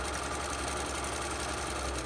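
A sewing machine stitches a fabric Olson mask with a continuous, even mechanical whir and fine rapid chatter. The sound runs unbroken throughout.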